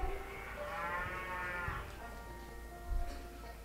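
Cattle and calves in a cowshed, staged in a Marathi social drama, give one long drawn-out low call at moderate distance, followed by quieter background rumble and a brief thump.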